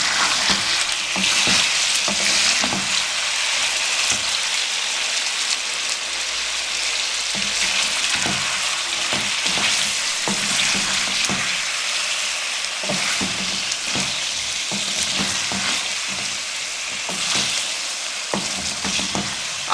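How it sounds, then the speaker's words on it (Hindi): Chicken sizzles and fries steadily in a karahi, a dense continuous crackle with repeated sharp stirring scrapes throughout, close and loud with no talking. "अब इसको हम 1 से 2 मिनट के लिए अच्छे से फ्राई करेंगे।"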